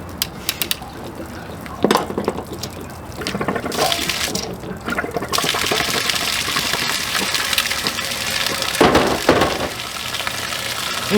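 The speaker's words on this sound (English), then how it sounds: "Start by draining the water here." Water draining out of a residential water heater being removed, a steady gushing, splashing flow that holds up for the whole stretch and swells in a couple of brief surges.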